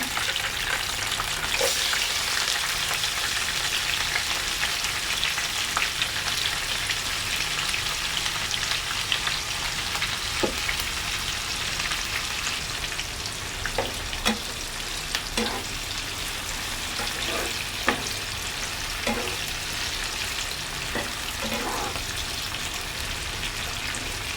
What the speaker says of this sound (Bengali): পেঁয়াজটা কালার আসার আগ পর্যন্ত আমি ভাজবো, ভেজে নেব।